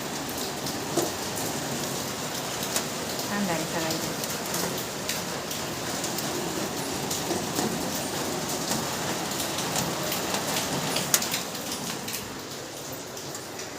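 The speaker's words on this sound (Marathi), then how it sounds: "पाऊस चालू आहे भरपूर" Heavy rain pours steadily with dense, crackling patter close by, and a person briefly speaks quietly over it.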